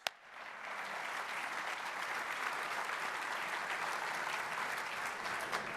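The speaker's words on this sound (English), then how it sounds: "Let's have a round of applause" Sustained applause from an audience at a 2017 State of the County address, steady and even throughout after a sharp first clap, with no voices over it.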